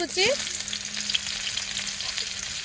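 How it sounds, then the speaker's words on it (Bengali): Onion is dropped into hot oil for an egg and spinach dish, setting off a quick splash. A steady, close sizzle follows and continues throughout, with no talking. "তেলটার মধ্যে দিয়ে দিই পেঁয়াজ"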